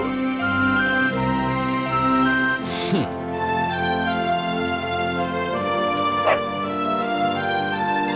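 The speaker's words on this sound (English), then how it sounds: "Not a dog! Anything but that!" A dog in Dragon Quest XI S lets out a few short yelps and barks over looping game music, one near the start of the passage and another a few seconds later.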